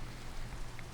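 Steady rain from a video game shader demo, a soft, even hiss of falling drops with faint low rumble, quiet and continuous, no voices.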